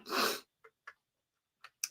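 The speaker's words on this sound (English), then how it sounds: "I tried to sneeze away from you." A single loud close sneeze bursts out at the start, followed by a few short faint breaths or sniffs in a quiet room.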